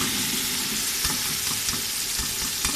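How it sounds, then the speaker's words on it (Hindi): Potatoes and carrots fry in a pan for an aloo gajar curry: a continuous close sizzle broken by repeated sharp clicks and scrapes of stirring. "हम अब सब्ज़ी को थोड़ी देर भूनेंगे।"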